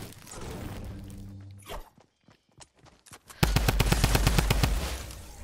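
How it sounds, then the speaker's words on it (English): Automatic gunfire crackles in a multiplayer shooter video game, a sparse patter of shots before a sudden, loud burst of rapid fire fills the second half, close and sustained. "Oh shoot, now I'm getting shot at."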